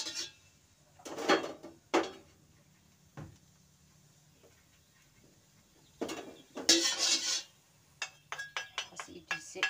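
A large wok is handled on a home stove while cooking spices, with sporadic metallic clanks, knocks and scrapes, some loud and close, separated by quiet gaps; faint talk appears in places.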